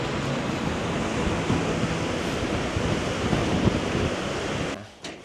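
A roaring Icelandic waterfall, heard from its top, sends out a steady, loud, broadband rush of falling water that fills the clip before dropping away at the end.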